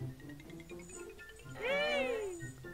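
A single drawn-out cat meow rises and falls clearly in the middle, with faint background murmuring and shuffling around it.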